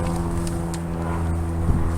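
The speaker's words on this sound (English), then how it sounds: "we got an airplane flying overhead here." Single-engine propeller airplane passing overhead above a garden plot, a steady low droning hum holding at moderate distance throughout, with no talking.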